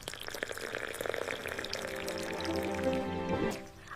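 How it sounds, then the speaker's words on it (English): Hot water pours from a kettle in a steady, close stream that rises in pitch as the vessel fills, then stops abruptly near the end. "I pour hot water."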